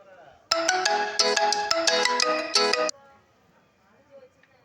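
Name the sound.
phone ringtone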